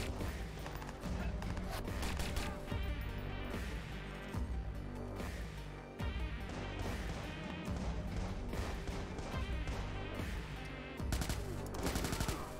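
In the Watch Dogs video game, a gun fires in loud, continuous bursts of rapid gunfire that pound away with booming impacts over a dense, busy game soundscape.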